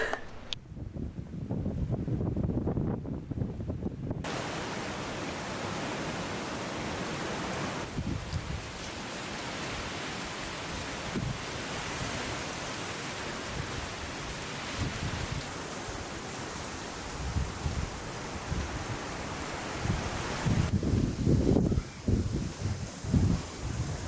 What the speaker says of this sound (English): It's really windy up here. It's super windy.